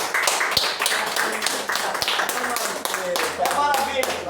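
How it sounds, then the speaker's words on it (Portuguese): A church congregation applauds with dense, steady clapping that fills the whole moment, with voices mixed in underneath. "Uma salva de palmas para Cristo."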